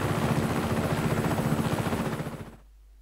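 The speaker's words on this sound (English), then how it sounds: "You can take this chopper, Fratre!" Helicopter in the video game Just Cause 3, its rotor chopping in a steady rapid pulse, loud and close, then fading out abruptly near the end.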